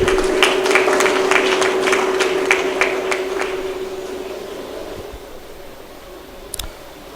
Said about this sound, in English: Please may we give another round of applause to the Pro-Chancellor.